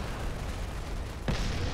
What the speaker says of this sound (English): Explosions enveloping the center of the map